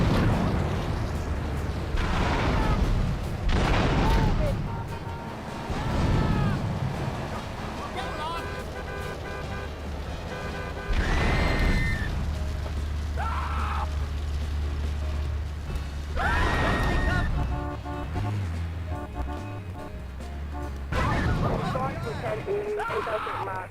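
Repeated explosive bursts from grenades going off in the video game GTA III, several heavy booms spread across the stretch, some in quick chain-reaction succession, mixed with game engine and vehicle noise while someone talks over them.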